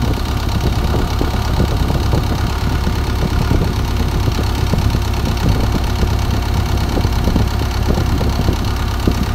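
A Hitachi EX120-3M excavator's heavy diesel engine, suffering low power derate, idles steadily and loudly, a continuous low rumble with rapid mechanical knocking throughout, no voices.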